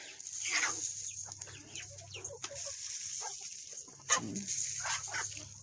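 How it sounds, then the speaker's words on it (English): Backyard chickens cluck and chatter close by, with a dog-like yip among them, before one bird gives a single short, sharp sneeze near the end. "So sometimes chickens sneeze"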